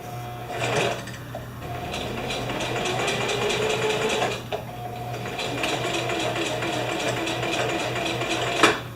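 Sewing machine running steadily as it stitches three straight rows across a tree saver sling, a continuous fast mechanical whir with brief pauses and restarts, close and fairly loud.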